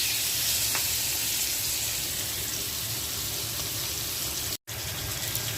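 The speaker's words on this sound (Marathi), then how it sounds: "मच्छी टाकून घेते तेलामध्ये. चारी पण पीस एकदा टाकते." Four pieces of surmai (kingfish) frying in hot oil, a continuous bright sizzle that holds steady throughout, broken only by a momentary dropout near the end.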